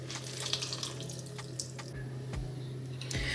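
Liquid poured into puff puff batter in a kitchen, a faint close trickle and splash over a low steady hum, with a few small drips and knocks and no talk.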